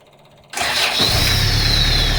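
A Kia Bongo 3.0 diesel engine with a reconditioned starter cranks once and catches immediately, jumping from quiet to a loud, steady idle close by.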